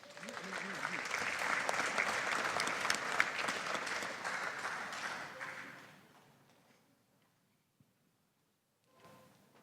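An audience at the Pacific Child Well Being Conference 2023 applauds in a dense, sustained wash of clapping that fades out after about six seconds, leaving near silence and then a faint voice.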